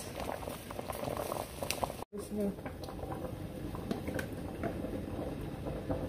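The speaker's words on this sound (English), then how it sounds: "Just throw out my carrots and make it boil a little." Pot of water with carrots bubbling at a steady boil for fish tea, a continuous close rolling burble with a brief dropout partway through, no talking.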